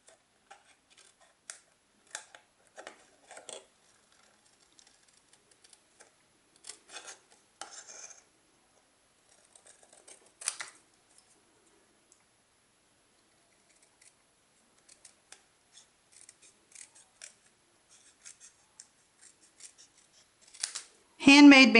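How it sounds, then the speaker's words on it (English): Scissors trim around a paper balloon cut-out with quiet, scattered snips and short cutting runs over a near-silent background, followed by a brief louder sound at the very end. "And then just trim around it"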